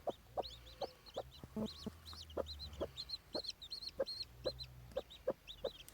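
A turkey hen with chicks hatching from their eggs gives a steady series of short clucks, with high thin cheeping from the chicks above, close and fairly quiet with no talk.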